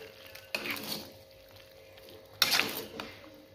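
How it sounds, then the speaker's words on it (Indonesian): Capcay vegetables stirred in a pan after Worcestershire sauce goes in: two bursts of scraping and clattering utensil against metal over a soft sizzle, with quieter gaps between. "Kita aduk lagi."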